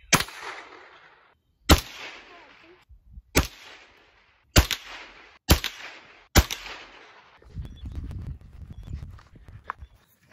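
A .22 rifle fires at a target outdoors: six sharp, loud cracks spaced about a second or more apart, each with a short ringing tail, then quieter rustling and handling noise.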